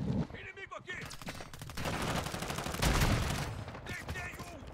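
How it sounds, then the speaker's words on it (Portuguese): Rapid gunfire in the Call of Duty Modern Warfare 2 video game, a dense stretch of overlapping shots and bursts with a louder peak near the middle, mixed with game voices. "Tiro!"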